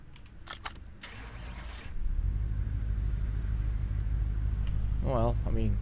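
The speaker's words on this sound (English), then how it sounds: "Can I start the car?" A video game 1954 Mercedes 300SL Gullwing engine turns over in Car Mechanic Simulator and settles into a steady low idling rumble, with brief talk before and a voice near the end.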